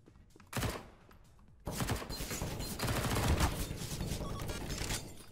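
Rapid AK rifle fire in the tactical shooter CS:GO, a short burst followed by a longer stretch of dense automatic shots with game noise, moderately quiet overall.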